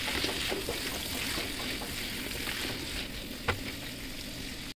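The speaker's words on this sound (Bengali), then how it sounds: "চিকেনগুলো হালকা 5 মিনিটের মতো আমি ভেজে নিচ্ছি।" Chicken pieces and chicken balls fry in a pan with a soft, continuous sizzle and faint crackles, heard close and alone.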